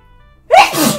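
A single sharp sneeze bursts out close and loud after a short quiet lead-in, a rising breathy onset followed by a forceful explosive release.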